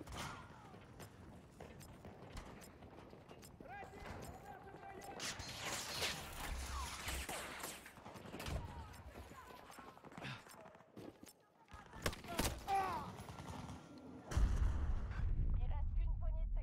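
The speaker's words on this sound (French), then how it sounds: "Balance une grenade." Grenade explosion and gunfire in the video game Battlefield 2042: a dense, ongoing clatter of shots and crashes that builds to a heavy, booming blast near the end, which holds loud and low.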